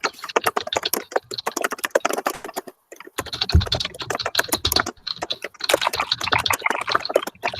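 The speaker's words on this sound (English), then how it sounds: "Oh wow, there's a lot of typing going on right now." Rapid typing on a computer keyboard, dense irregular clacking keystrokes that run continuously with one brief pause, close and fairly loud.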